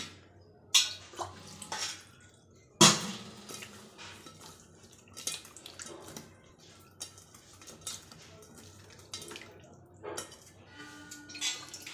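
Water splashes and trickles in a container while tomatoes and tamarind are rinsed, with clinks of utensils and dishes and scattered drips.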